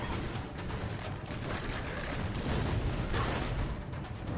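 Rapid Gatling gun fire from the action game Lara Croft and the Guardian of Light, a dense continuous roar of shots with explosive bursts, loud and steady throughout.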